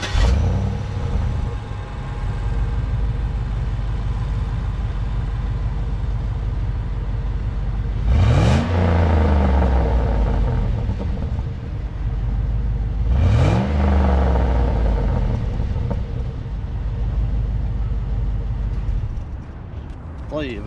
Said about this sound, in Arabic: قبل التفريغ نسمع صوت السيارة في التشغيل